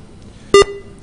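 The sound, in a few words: electronic beep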